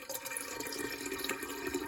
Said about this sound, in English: So we're just going to pour that into it.